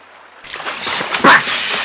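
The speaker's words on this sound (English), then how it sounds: "Splash!" A box of fireworks falls from a bridge and splashes into a river, a brief loud splash with sloshing water that peaks sharply midway and then settles, standing alone as a sound effect.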